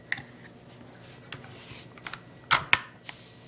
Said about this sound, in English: That's the bolt mechanism going downwards and putting the force downward